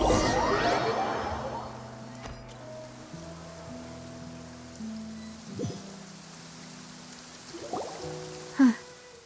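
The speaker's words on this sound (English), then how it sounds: "It's been raining non-stop for a few days now." In Genshin Impact, rain makes a soft, steady hiss beneath the game's music, with a few whooshing swells and a brief sharp accent near the end.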